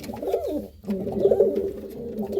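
Silver Sirazi pigeons coo in a cage, their low, rolling calls close and continuous with a brief dip between phrases and no talk.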